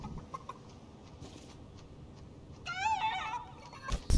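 A chicken in a video game gives a brief, warbling cluck near the end, rising over soft, steady game background noise.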